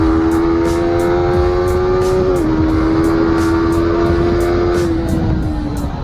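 A Yamaha R15 V4 150cc motorcycle accelerates hard, its engine whining loudly and close with a strong, rising tone broken by quick gear-shift dips.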